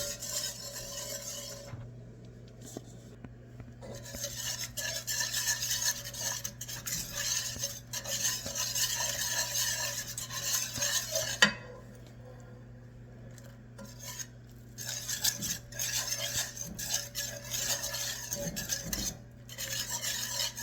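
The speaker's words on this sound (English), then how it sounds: "And then we're just going to stir this in." A spoon stirs garlic powder, herb rub and nutmeg into a thickening cauliflower au gratin sauce in a pot, giving soft, close scraping and swishing strokes with brief pauses and a steady low hum underneath.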